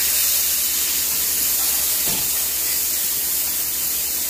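A steak sears in a hot pan, giving a steady, loud broadband hiss that runs without a break and has only a faint thump partway through.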